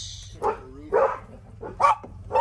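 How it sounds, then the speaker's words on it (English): A dog barks in a storage unit, giving a few separate sharp barks with pauses between them, fairly close and loud, and no one speaks over them. "Wait until the dog stop."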